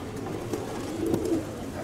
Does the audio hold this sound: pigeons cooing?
yes